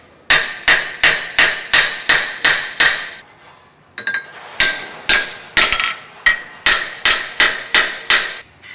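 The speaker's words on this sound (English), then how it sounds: "we're going to take a hammer and we're going to actually just bend these back and make sure that the washer is located flush and even with the surface" Metal hammer strikes bending back a washer during service of a Grundfos SP submersible pump: two quick bursts of sharp, evenly spaced clanking blows, about eight each, with a short pause between, loud and close.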